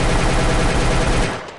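Rapid automatic gunfire from a gun in a VR video game, a loud continuous burst of closely spaced shots lasting over a second before trailing off, with no voices.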